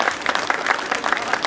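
Audience applause at a Hindi comic poetry gathering in Kanpur, a steady dense patter of many hands clapping that fills the whole short stretch at even loudness, with no voices over it.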